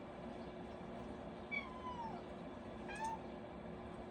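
A cat meows twice, a longer falling meow followed by a shorter one about a second later, faint and somewhat distant over a steady background hum, with no talk.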